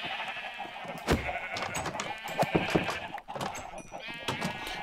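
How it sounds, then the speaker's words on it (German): Sheep in the Minecraft video game bleat several times in quick succession, wavering calls repeating over a soft, steady background. "Da ist noch ein Schaf draußen."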